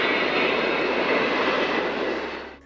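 A four-engine jet airliner passing overhead, a steady loud broadband roar that holds for a couple of seconds before fading away, with no talking.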